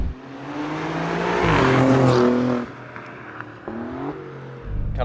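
An Alfa Romeo Giulia Quadrifoglio accelerates hard with a loud, rising engine roar, broken by quick dual-clutch upshifts about every second near the end, the pitch dropping and climbing again after each shift.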